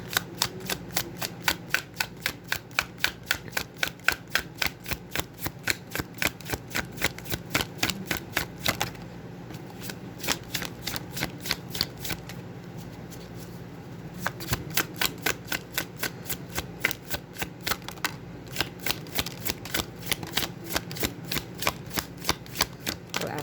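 Tarot cards shuffled continuously in rapid, rhythmic riffle bursts with brief pauses, close and fairly loud, no talking.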